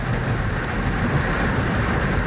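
Heavy rain pours down steadily during flooding in Jamaica, a dense, loud, unbroken roar with no voices.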